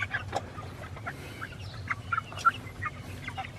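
Chickens on a small farm with young chicks cluck in faint, scattered bursts, a few short calls standing out over a low steady background hum.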